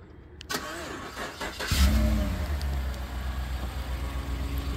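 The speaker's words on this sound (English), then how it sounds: "the vehicle is equipped with remote start" A Chevrolet Suburban SUV engine, started by remote start, cranks and catches after a few clicks, then settles into a steady low idle, close by with no talking.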